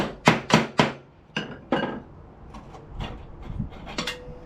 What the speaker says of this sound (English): see if I can punch out the spindle on here